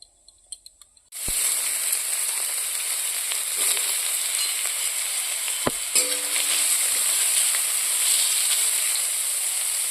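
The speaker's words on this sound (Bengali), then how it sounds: "এই যে দেখো ঘি দিয়ে আমি এবারে মশলাগুলো সব ভেজে নেবো" Spices fry in hot ghee in a pan, starting with a burst of sizzling that stays strong and even, broken by a couple of sharp clinks, with no speech.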